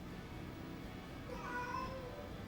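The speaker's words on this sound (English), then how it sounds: "Why are you meowing?" A pet cat meows indoors, one drawn-out meow about halfway through, moderately close, with a low steady background hum and no talking.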